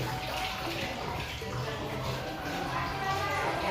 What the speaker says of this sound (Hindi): अभी भी लगातार पानी आ रहा है